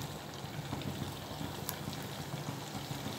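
Rava dough hits hot oil in a pan and fries with a steady, dense crackle and bubbling sizzle at low volume. A faint tick stands out midway, and no one speaks.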